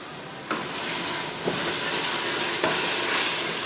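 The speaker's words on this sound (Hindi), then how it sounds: "ये दही के साथ साथ ही इसकी भुनाई करता रहूंगा।" Mutton masala being roasted with yogurt in a pot over full heat makes a broad, steady hissing sizzle, broken by three distinct stirring scrapes.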